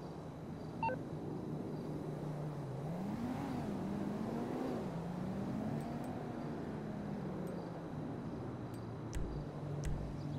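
A car in Grand Theft Auto Online runs steadily throughout, its engine hum rising and falling as it revs and drives, with small electronic beeps near the start and several sharp clicks toward the end.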